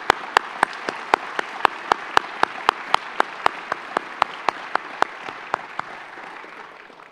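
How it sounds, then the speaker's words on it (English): Audience applause at a regional State of the Region address, a regular rhythmic clapping with loud sharp claps close by over softer crowd clapping, gradually fading away toward the end. "Let's give them a round of applause."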